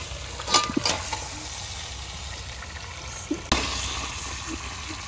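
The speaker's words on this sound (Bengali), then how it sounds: "এখন আমি শাপলা দিয়ে দেবো।" Water lily stems and large prawns fry in a pan with a steady, loud sizzle, broken by a few clattering stirs of the spoon against the pan.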